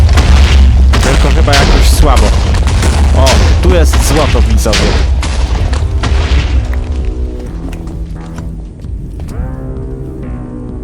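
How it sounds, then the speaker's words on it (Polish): Minecraft TNT blocks detonating in a rapid, loud chain of booms and blasts that crowd the first half, then thin into scattered thuds and rumbles, with someone talking over them. "rozkładamy TNT i powoli TNT zacznie wybuchać"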